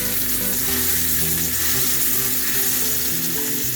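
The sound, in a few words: metal spatula cutting omelette in sizzling pan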